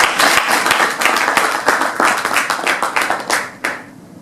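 Audience applause at the ICMF coaching and mentoring awards ceremony, close, crisp clapping with distinct individual claps in an irregular rhythm, tapering off near the end.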